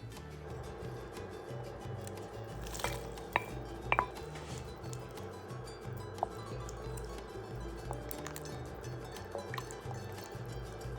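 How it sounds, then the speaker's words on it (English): Shredded pork goes into a pot of pozole rojo with soft wet squishing, scattered utensil clinks and taps against the pot, and a low steady simmering rumble underneath. "Now I'm going to add it to the pot."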